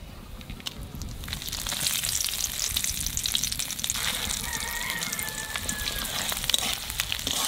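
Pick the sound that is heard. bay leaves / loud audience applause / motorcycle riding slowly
bay leaves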